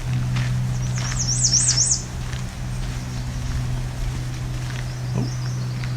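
A myrtle warbler sings faintly in the distance at Alvar Bay, a short run of high, warbling notes followed by a fainter phrase, over a steady low engine-like hum.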